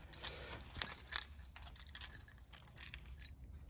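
A bunch of keys jangles and clinks in short metallic bursts near a Ferrari 360 with a gated manual gearbox, faint and close with no voices.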